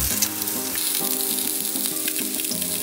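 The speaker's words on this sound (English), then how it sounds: "We're going to let them brown on that side for about 4 to 5 minutes" Bratwursts browning in an Instant Pot give off a steady, close crackling sizzle that holds evenly throughout without pause.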